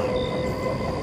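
A local train on the Howrah–Katwa line rumbles along in a continuous, steady roll with a faint whine on top, heard alone as a backdrop in a ghost story.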